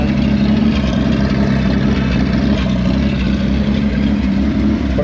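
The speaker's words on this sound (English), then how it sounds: "But I'm happy that it's idling on its own." A 1965 Corvair engine with rebuilt dual Rochester carburetors idles steadily on its own, a loud, even, low rumble that holds constant throughout with no revving.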